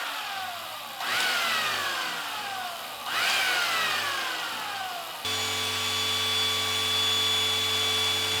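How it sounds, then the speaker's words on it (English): A 1950 electric drill motor priming a small-block Chevy 400 engine revs up twice with rising whines, then settles into a steady, loud, droning hum with sustained tonal lines. "We're gonna hook up our 1950 drill motor."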